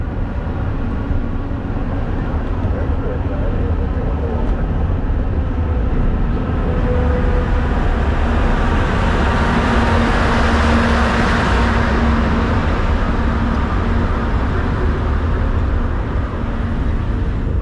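A Mount Washington Cog Railway engine rumbles past nearby, a loud continuous mechanical roar that swells as it comes closest midway and then slowly eases off, with no talking.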